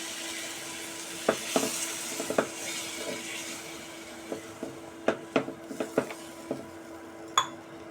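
Egg curry masala sizzling in a pan with a spoon clinking and scraping against the pot in irregular taps over a constant frying hiss, as warm water is added.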